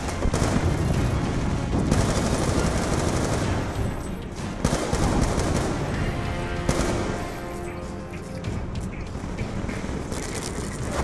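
Sustained Galil assault rifle fire in Call of Duty: Black Ops 2, loud repeated bursts and clattering shots over a busy battlefield, easing briefly midway before heavy firing picks up again.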